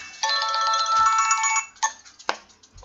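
A mobile phone ringtone plays a loud electronic melody for over a second, then cuts to a few short tones and clicks as it stops.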